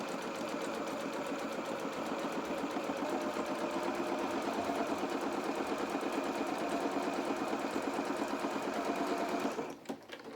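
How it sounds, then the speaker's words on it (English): A sewing machine runs a steady zigzag stitch down the side seams of a small doll's coat, a continuous close mechanical whirr with rapid rhythmic needle ticks that stops abruptly near the end. "we are literally going to zigzag down all of these side seams."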